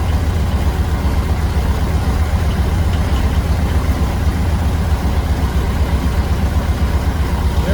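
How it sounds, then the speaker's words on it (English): A 1600 VW Beetle engine with a 34 PICT3 carburetor idles at about 950 RPM, making a loud, close, steady low rumble with an even throbbing pulse that runs unbroken from start to finish. "we have it at 950 RPM. This, you can see, is idle"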